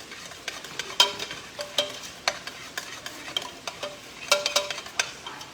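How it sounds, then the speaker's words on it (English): Shrimp risotto being stirred in a pan: a spoon scrapes and taps the pan in irregular strokes over a steady low sizzle, close up, with no voices. "get back to stirring the risotto"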